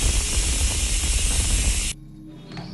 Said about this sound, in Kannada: ಸೊ ಒಂದು ವಿಷಲ್ ಬರ್ತಿದೆ.